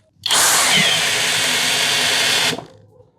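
A Hanabi LJ-2023 cordless drill fitted with a larger, coarser bit whirs loudly and steadily for about two seconds, close by, then winds down abruptly and stops, with no speech.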